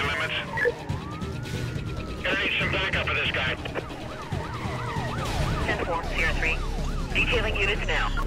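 Police sirens wail in Need For Speed Most Wanted, loud rising and falling tones from pursuing patrol cars over racing-car engine noise, with someone talking throughout.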